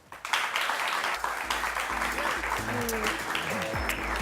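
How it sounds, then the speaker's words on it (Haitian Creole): A crowd applauding steadily, dense clapping with a few voices rising underneath. "Je vous demande de l'applaudir."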